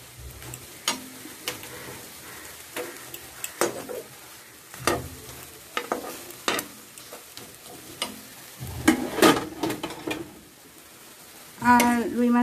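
Prawns and cabbage frying in a pan, with a steady sizzle broken by repeated sharp scrapes and knocks of a spatula stirring, ending in a louder clatter.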